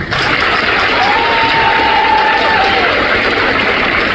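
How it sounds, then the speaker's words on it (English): Loud, steady applause and crowd noise for teachers at an eighth grade graduation ceremony, a dense sustained roar of clapping with some cheering mixed in, filling the whole stretch. "Please give them an applause."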